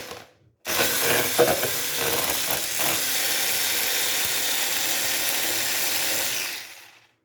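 Dry ingredients for a revani cake stirred steadily in a bowl, a continuous scraping, rasping rustle that starts abruptly and runs evenly for several seconds before fading out.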